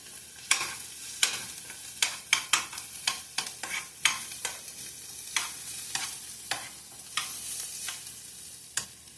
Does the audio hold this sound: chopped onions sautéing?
yes